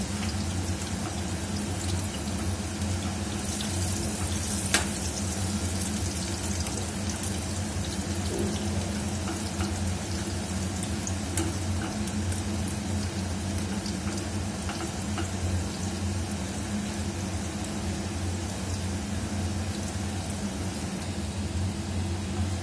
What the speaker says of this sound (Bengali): পকোড়াটা অলমোস্ট ভাজা হয়ে গেছে।